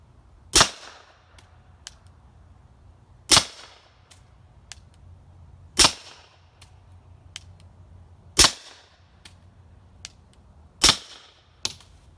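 Walther PPQ pistol fired suppressed into a plywood backstop, five sharp cracks spaced a few seconds apart, each with a brief echo, with faint clicks between.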